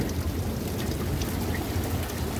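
Hail pours down steadily on a garden and doorstep in a dense, even hiss of many small impacts, loud and continuous with no voices.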